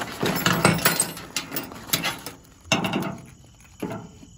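Metal wrenches from the toolkit of a budget 52cc Autojare chainsaw with a 20-inch bar are handled, giving a series of close, light clinks and clatters with short pauses between them.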